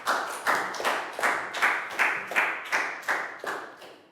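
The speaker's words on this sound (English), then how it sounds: "big round of applause for Pat" Classroom applause for a student, heard as about ten strong, evenly spaced claps in a steady rhythm, close and clear with no talking.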